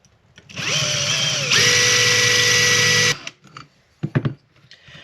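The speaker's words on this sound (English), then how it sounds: "as I'm letting the drill go, of course, I'm just filing it down, kind of cleaning up all the edges" A power drill whirs steadily for a couple of seconds, its pitch shifting as it runs, then stops, followed by a few scraping, rasping strokes of a metal file cleaning up edges on a battery terminal.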